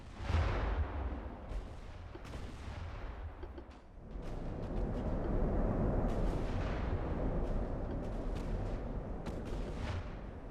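8-inch naval guns firing in Ultimate Admiral: Dreadnoughts: heavy booming salvos over a constant deep rumble of battle, with sharp reports scattered through the clip and a denser roar in the second half.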